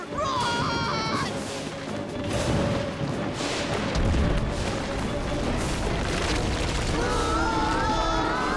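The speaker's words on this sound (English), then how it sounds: "It's a meteor shower! Run!" Cartoon meteor shower: continuous rumbling booms, crashes and explosive impacts roar throughout, loud and dense, with voices and tonal effects layered over the barrage.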